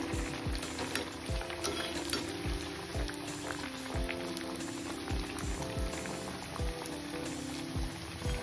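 Churma laddu dough balls deep-frying in hot oil, a continuous bubbling sizzle with faint background music and occasional soft clinks, no talk.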